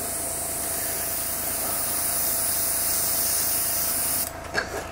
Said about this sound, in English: I'm going to spray at a slightly higher pressure,